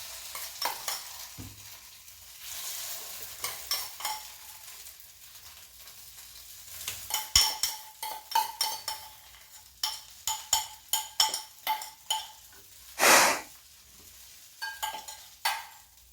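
Paniyaram batter poured into the hollows of a hot paniyaram pan for soft white paniyaram, with intermittent sizzling bursts and scraping, clinking stirs spaced irregularly, close and moderate, no talking.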